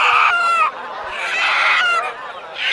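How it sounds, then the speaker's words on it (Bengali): Chickens at a poultry and pigeon market cluck and crow loudly and close, in long drawn calls that overlap one after another. "মুরগি পায়রা সব এক জায়গায় রাখা।"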